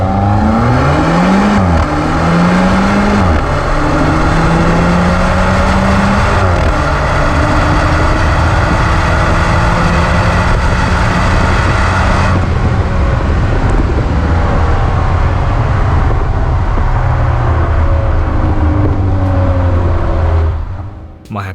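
An Alfa Romeo 4C Spider runs a full-throttle acceleration test in full automatic mode, its engine note climbing loud and close through several gear changes with rising pitch before backing off at the end.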